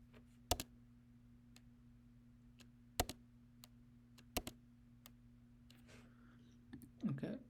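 Sparse clicks and taps on a computer keyboard while Go code is written, a few sharper isolated keystrokes spread apart over a quiet electrical hum, with brief speech at the end.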